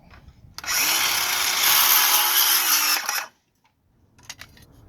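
A power saw cuts a piece of stucco moulding square along a rafter square, one loud steady whine lasting about two and a half seconds, then stopping abruptly and leaving quiet handling noise.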